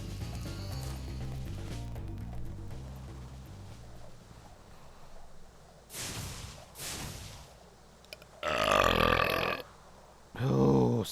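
A loud, guttural burp bursts out at close range during a Spyro the Dragon gaming stream, followed by a second shorter one, over steady game music in the background.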